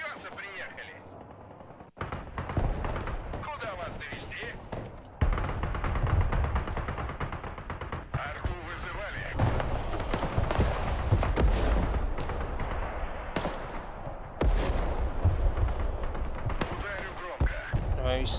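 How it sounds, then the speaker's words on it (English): Rocket barrages and gunfire in the Broken Arrow video game during a 5v5 multiplayer match, repeated booming launches and rattling shots throughout with voices talking over the battle. "they're putting firing rockets"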